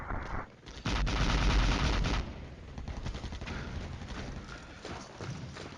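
Bursts of gunfire and heavy cannon fire from tanks in the Cold War wargame Flashpoint Campaigns, a loud sustained barrage of shots and booms that eases into scattered rattling fire.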